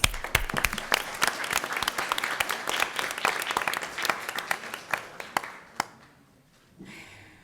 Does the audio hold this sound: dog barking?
no